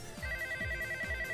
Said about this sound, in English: Answer the phone, relax.